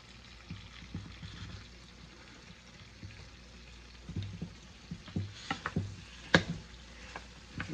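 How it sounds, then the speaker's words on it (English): Apples fry softly in a pan while a utensil stirs them, giving a quiet sizzle broken by scattered scrapes and clicks that grow busier toward the end. "Now I'm going to stir the apples around a little bit."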